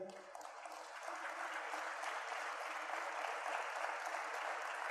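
A church congregation breaks into sustained applause, steady and dense, filling the room after a brief opening moment and holding at even loudness to the end.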